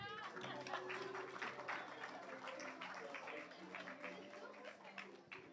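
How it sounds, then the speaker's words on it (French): A church congregation applauds during a family Mass, steady, dense clapping that fills the room, mixed with scattered voices and cheers throughout. "applaudissez-vous"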